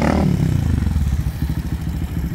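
A modified Honda Twister motorcycle with a fuel-injected engine and 80 mm piston revs close by, its throttle pulsing rhythmically in a throaty, rapid chugging beat with some rattle.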